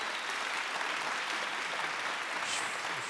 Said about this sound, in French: je pense qu'on peut applaudir Isiane Godin-Bertoni